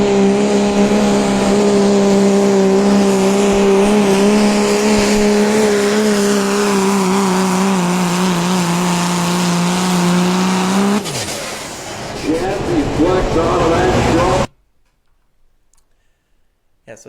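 Engine of the Megatron pulling truck at a truck pull roars loud and steady with a strong droning tone for about eleven seconds, then drops and revs unevenly before cutting to near silence.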